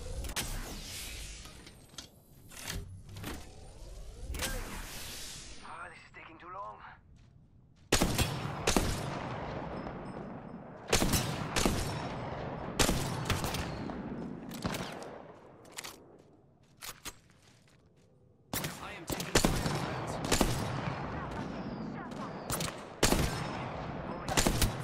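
Video game gunfire crackles in repeated loud bursts and volleys, with mechanical clanks and shield-recharge effects in between; dense combat fills the whole stretch.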